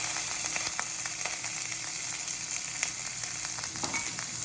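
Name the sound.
curry leaves and green chilies sizzling in a pan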